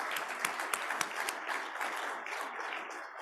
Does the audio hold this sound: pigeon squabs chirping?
no